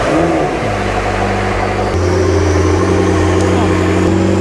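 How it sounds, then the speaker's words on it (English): A McLaren 650S engine starts with a rising whir and catches, then settles into a loud, deep, steady idle with a brief blip of revs, heard close and dominating throughout. "Let's grab the key and fire it up."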